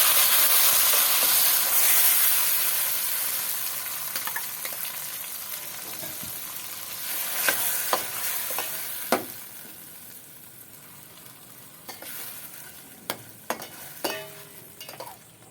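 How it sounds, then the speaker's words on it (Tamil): Ground tomato fries in a pan for a murrel fish curry, with a steady close sizzle and hiss that slowly fades, broken by a few sharp stirring clinks. "தக்காளிலாம் நல்லா வதங்கிருச்சு"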